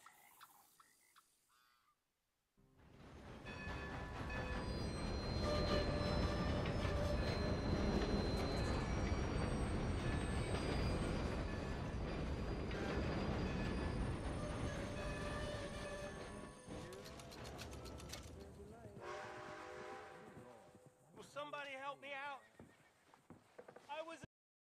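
A steam train in Red Dead Redemption 2 rumbles along at speed, a loud sustained clatter of wheels and carriages that swells in after a short pause and fades out near the end as a voice speaks.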